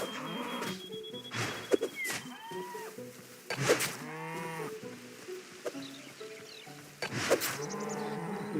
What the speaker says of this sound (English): It seems like I've spotted some cattle around here.